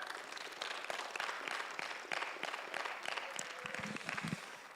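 A church congregation bursts into sustained applause during a Spanish-language sermon, a dense wash of many hands clapping steadily throughout at moderate volume.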